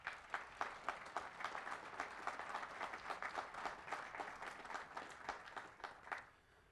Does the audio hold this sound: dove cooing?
no